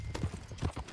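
Horse hooves clip-clopping in the Red Dead Redemption 2 video game, with two quick, close pairs of hoofbeats in a loping rhythm, soft and alone with no talk.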